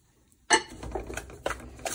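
Dry coconut powder frying in ghee in a pan, with scraping, clinking and sizzling bursts after a brief silence, close and fairly loud.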